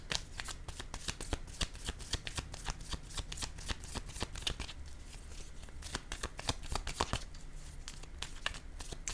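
A tarot deck is shuffled by hand up close, a steady stream of papery flicks and riffles with small louder snaps, continuing without any talking.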